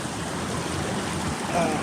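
Water flows out from between moss-covered rocks beside a railway line, a steady close rushing and trickling wash with no talk.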